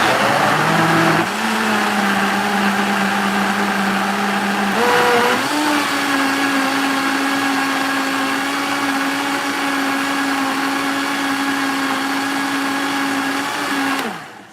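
A blender grinds food full of chunks at high speed, a loud steady motor whine that shifts pitch upward as the contents break down, running for many seconds close up before stopping abruptly.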